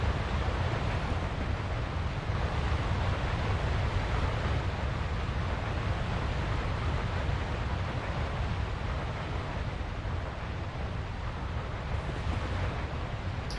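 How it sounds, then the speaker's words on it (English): A steady, broad roar of rushing water fills the scene, constant and fairly loud with no breaks or voices over it. "It sounds like rushing water."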